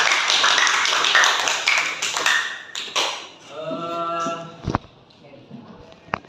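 Students in an Indonesian classroom clap together in a brief burst of close, dense applause, followed by a few scattered taps and a short spoken phrase.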